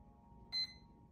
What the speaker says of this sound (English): that's what it's going to do is beep now that I knocked the motor wire loose